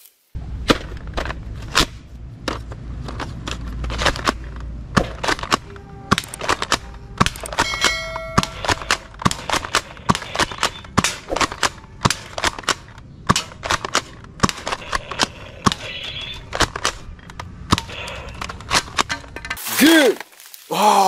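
A toy multi-shot gun, Nerf style, fires rapid clicking cracks and clangs in irregular bursts, loud and close, with a brief whoosh near the end.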